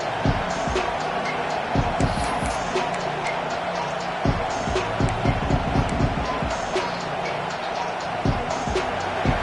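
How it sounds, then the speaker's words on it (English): A loud college football stadium crowd in College Football 25 roars and cheers continuously, with scattered thuds and bursts of noise rising and falling beneath it. "Listen to the crowd energy here in the early going."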